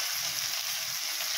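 Cumin seeds dropped into hot oil give a short, quiet, steady crackling sizzle heard up close, with no talking.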